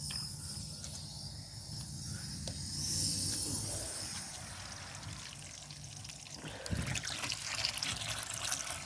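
Water from a garden hose runs into a bucket, a continuous quiet trickle and splash that thickens toward the end, with faint insect chirps outside.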